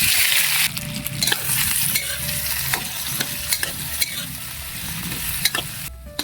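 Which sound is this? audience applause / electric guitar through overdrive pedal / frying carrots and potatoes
frying carrots and potatoes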